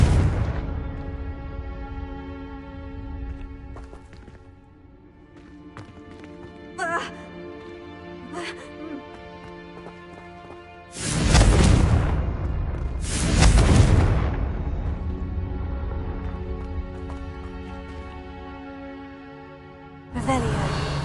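Two loud, broad explosion bursts from the Confringo spell in Hogwarts Legacy strike a few seconds apart over a musical backdrop, with a sharp hit at the very end.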